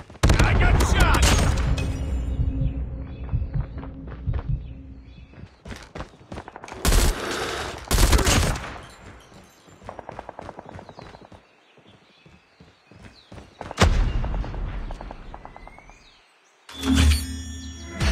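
Gunfire in the Call of Duty Mobile video game: loud bursts of shots and rapid fusillades, close and punchy, broken by quieter gaps, with game sound effects and brief voice lines mixed in.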